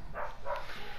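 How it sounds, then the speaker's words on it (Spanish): Two muffled dog barks sound in quick succession, faint and distant. "Perdón por los perros ladrando de fondo"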